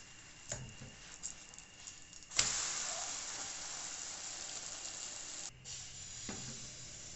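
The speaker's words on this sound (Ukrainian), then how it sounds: "І як зазвичай смажимо млинці." Batter sizzles steadily in a hot pan, a constant close crackle with a few soft clicks and bumps of utensils.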